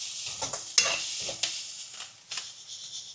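Snake gourd being sautéed in a pan, with short bursts of sizzling and the scrape of a spatula stirring several times, close and alone with no voices.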